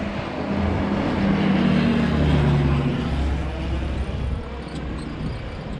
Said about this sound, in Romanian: Și acum vine un avion,